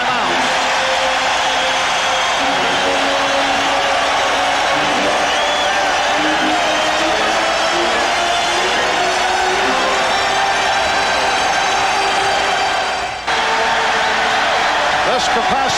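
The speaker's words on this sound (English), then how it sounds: "This capacity crowd reacting to the Knicks moving within 2." A capacity crowd at a 1993 Eastern Conference Finals game between the Bulls and the Knicks roars loudly and steadily in the arena, a dense, sustained cheer that fills the whole stretch, with a brief dip near the end.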